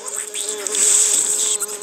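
An attacking bee in a video game buzzes in a close, steady whine that wavers slightly in pitch, continuous and alone for a couple of seconds.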